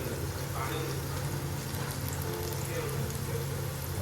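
Tomatoes fry in a pan as homemade masala goes in, giving a dense, steady sizzle with crackle throughout, fairly close and even in level, with no clear talk over it.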